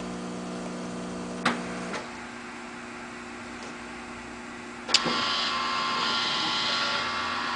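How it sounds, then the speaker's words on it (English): An automated barista coffee machine doses 8 grams of coffee and then dispenses espresso. A steady mechanical whir with a hum under it is broken by two sharp clicks, and then a louder hissing pour carries on to the end. "You hear the doser distributing 8 grams of coffee into the drink. Here comes the espresso, or the coffee."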